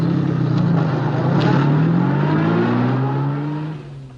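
A late-1950s car pulls away close by, its engine revving up through falling and rising gear whine before the sound fades as it drives off.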